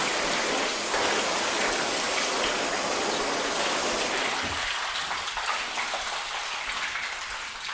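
Water sprays and runs off a spray-sealant-coated car panel in a broad, steady hiss that eases slightly partway through, with no voices.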